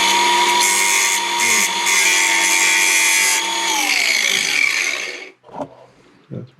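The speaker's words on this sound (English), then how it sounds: "Maybe a little die grinder." A die grinder whines at a high, steady pitch for about five seconds during an electric hot-water boiler rebuild, then spins down and cuts off, leaving brief faint knocks.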